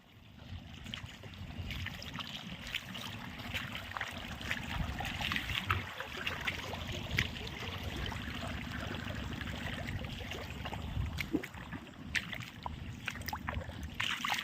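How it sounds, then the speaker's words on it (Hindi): Water from a diesel pump pouring steadily into a flooded rice paddy field, a continuous close rushing and gurgling flow with a low mechanical rumble underneath. "देख लीजिए दोस्तों खेत में पानी डला रहा है।"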